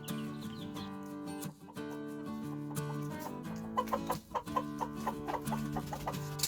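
Ixworth and Silkie hens cluck in a busy, continuous flock chorus, with overlapping tonal calls and a few sharper, louder clucks near the end.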